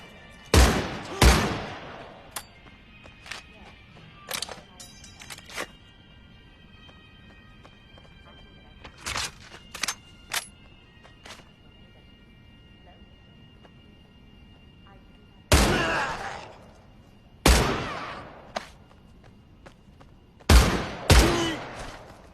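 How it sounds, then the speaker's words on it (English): Semi-automatic Gewehr rifle shots ring out in the Medal of Honor VR game, sharp loud cracks in small rapid bursts of two or three with quiet gaps between, no speech over them. "rapidly firing the Gewehr's entire magazine will cause its accuracy to go"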